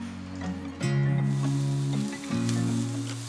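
Finely chopped carrots and beans sizzle in a hot pan for Schezwan-style cooking: a steady frying hiss under a strong, droning kitchen hum that swells after the first second.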